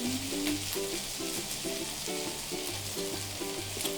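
Ground pork, natto, oyster sauce, soy sauce, chili flakes and the green parts of a leek sizzle steadily in a hot pan, a continuous close fry with faint stirring and no talking.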